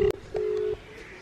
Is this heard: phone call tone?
yes